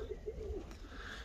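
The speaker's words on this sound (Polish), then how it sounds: "Tu jest akurat Jacka gołąb, ten gołąb." A racing pigeon gives a soft, low coo in a few rolling pulses, close by and fairly quiet, over a faint background hum.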